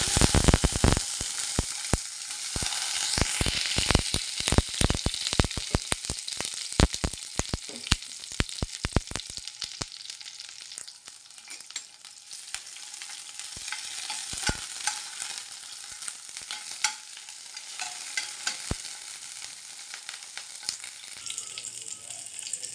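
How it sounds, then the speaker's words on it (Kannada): Tomatoes fry in oil in a pan for chutney, with a bright, steady sizzle and a quick burst of scraping stirs early on that thins out, leaving a softer continuous hiss. "ಎರಡೆರಡು ಟೇಬಲ್ ಸ್ಪೂನು ಎಣ್ಣೆ ಹಾಕ್ಕೊಂಡಿದ್ದೀನಿ ಈಗ ಇದಕ್ಕೆ ಟೊಮೊಟೊ ಹಾಕ್ಕೊಂಬಿಡೋಣ"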